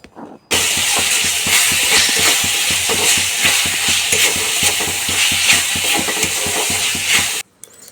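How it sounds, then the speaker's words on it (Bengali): Chopped tomatoes hit a frying pan of spices and ginger paste with a sudden loud sizzle, followed by steady hissing frying and rhythmic stirring scrapes up close, cutting off abruptly near the end. "দুটো বড় সাইজের টমেটো কেটে রেখেছিলাম সেই দুটো টমেটো কুচি করে কেটে নিয়েছিলাম সেটা এবার দিয়ে দেবো"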